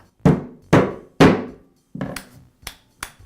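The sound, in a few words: rubber mallet tapping cap onto reciprocating saw shaft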